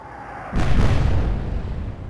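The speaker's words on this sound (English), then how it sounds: "Explosions!" A deep boom of ship cannon fire and explosions from the Atlantic Fleet naval warfare game hits at about half a second, then a loud, dense rumble lingers to the end with no talking.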